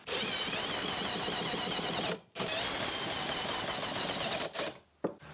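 Power drill driving 3-inch screws into the legs of a wooden raised planter box, a steady whirring grind in two long bursts separated by a brief pause, with short blips at the end.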